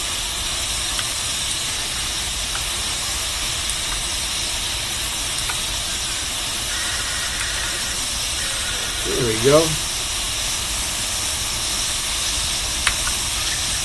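A steam locomotive in Train Simulator Classic hisses steadily as cylinder cocks blow water from the steam chest while it starts off, a broad constant hiss with a brief squeal; someone says a few words.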